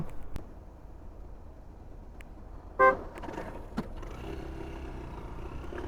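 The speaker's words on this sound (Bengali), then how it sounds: "পিছন থেকে হর্ন দেওয়া শুরু করে দিছে" A single short car horn toot rises out of steady traffic rumble at a signal in Abu Dhabi, followed by engine noise and another vehicle passing nearby.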